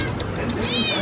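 A cat gives a short, clear meow close by, with bright harmonic tones, and a faint high ringing underneath.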